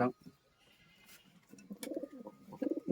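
Pigeons at a loft give a few low, muffled coos, close but quiet, broken up by brief bursts of people talking nearby.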